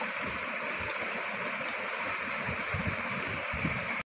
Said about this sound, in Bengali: একটি পাতিলে আমি 1 প্যাকেট দুধ ঢেলে দিলাম